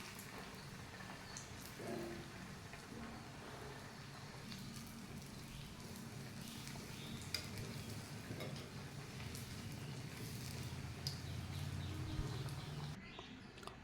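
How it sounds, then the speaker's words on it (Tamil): A soya chunk cheese ball fries in hot oil, giving a continuous soft sizzle and crackle that stays steady and faint throughout, with no voices. "ஆயில் சூடாகிடுச்சு. ஒரு பால் போட்டிருக்கேன், நல்லா ஃப்ரை ஆகட்டும்."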